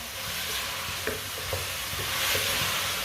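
Cauliflower and potato for aloo gobi fry in a hot pan, with a steady sizzle throughout and a few soft scraping stirs of a spoon, heard close and alone with no voices.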